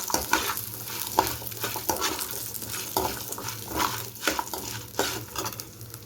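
Onions sautéing lightly in a pan for a Tamil home-style rasam and potato fry: steady sizzling with repeated stirring scrapes and spoon clinks against the pan, close and continuous.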